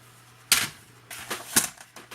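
Scissors or a paper trimmer slicing paper pieces for a Carta Bella "Toy Box" flip-flop scrapbook mini album, giving a few short crisp snips at irregular intervals, close and fairly quiet with no talk.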